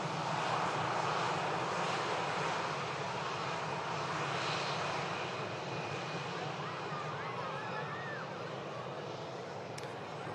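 A steady, fairly loud roar of jet engines fills the air as a Hainan Airlines Airbus A330 taxis at Manchester Airport, heard continuously at a distance with a brisk wind.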